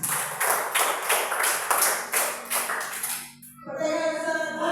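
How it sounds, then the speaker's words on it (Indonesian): Children in an Indonesian classroom lesson clap together for a classmate, a close, steady run of rhythmic claps lasting about three seconds before it stops and a tonal sound follows. "tepuk tangan dulu untuk Sisha."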